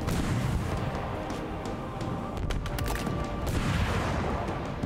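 Wraith tank firing in Halo Infinite, a dense, continuous barrage of loud booms and gunfire blasts that fills the whole moment without letup.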